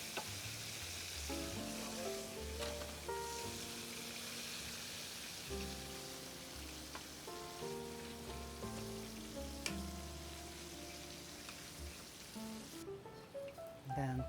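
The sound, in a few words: Korean fried chicken frying in oil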